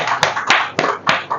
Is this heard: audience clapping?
yes